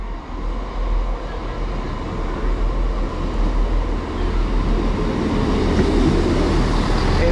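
A Transport for Wales class 158 diesel train, the Crewe to Holyhead service, arrives at a North Wales platform with a steady rumble that swells slowly as it draws in close, no talk over it.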